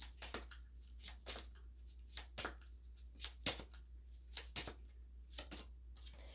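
Tarot cards are handled and drawn from a deck, a series of soft, quiet papery flicks and shuffles spaced irregularly over a low steady hum.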